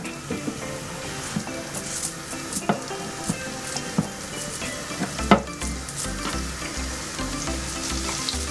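Onions frying in lard give a steady, close sizzle, punctuated by repeated scrapes and light metallic taps of a utensil against the pan, with a low rhythmic hum joining near the end; no voices.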